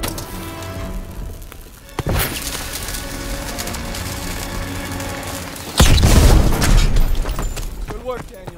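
A grenade goes off in the World War II shooter Call of Duty: WWII: a sharp crack early on, then a much louder, heavy, booming blast with crackling debris that rolls on for a few seconds over steady battle ambience.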